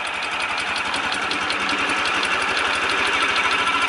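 A Ural motorcycle engine runs steadily at low revs in first gear with a fast, even pulsing throb, close and continuous with no talking.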